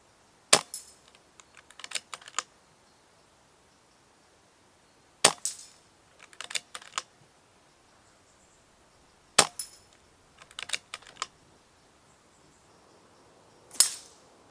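An ATA Airborne .177 air rifle fires four sharp, loud cracks spaced several seconds apart, each followed by a quick cluster of clicks and rattles from handling and reloading, with no voices.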